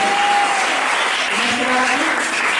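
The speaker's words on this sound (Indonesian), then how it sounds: "Berikan tepuk tangan bagi Tuhan Yesus" A seminar crowd applauding continuously, a dense steady wash of clapping throughout.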